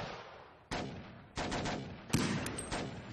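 Gunfire aimed at police during a scene in the 1998 French action film Taxi: several loud, sharp bursts of shots break in at uneven intervals over a constant roar of background noise, with no one talking.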